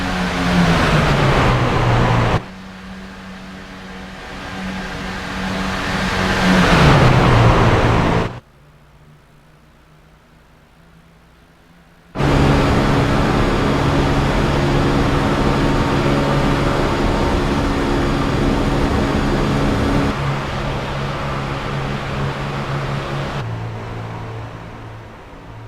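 Race cars roaring around Talladega Super Speedway in a sim racing game, a loud continuous engine drone that shifts pitch as the pack passes, breaking off for a few seconds of near silence before resuming.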